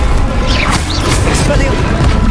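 A Confringo explosion spell cast in the game Hogwarts Legacy, a loud, dense blast with crashing, booming texture filling the short moment, up front and continuous.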